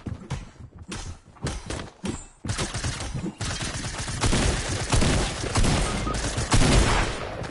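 Sustained video-game gunfire in a Call of Duty-style shooter, dense volleys of rapid shots with short gaps early on, then a continuous loud barrage, close and unbroken.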